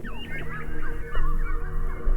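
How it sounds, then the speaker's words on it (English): Geese honk in a park, a flock of loud, overlapping nasal calls close by, rising and falling in quick irregular bursts over a low outdoor rumble. "Do you hear the birds? They're telling us it's gonna rain."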